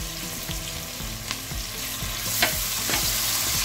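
Onions and tomato paste frying in a pan as a sauce base for guinea fowl: a continuous close sizzle with soft scraping stirs and occasional spatter pops.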